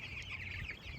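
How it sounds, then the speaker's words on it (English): Chickens put out on pasture for the first time this year cluck softly and continuously at a distance, under steady outdoor background noise. "This is the first batch of chickens to hit pasture this year."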